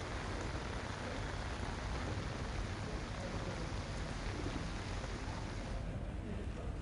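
Heavy monsoon rain pours down in Gujarat in a dense, steady hiss that holds evenly from start to finish, with no voices.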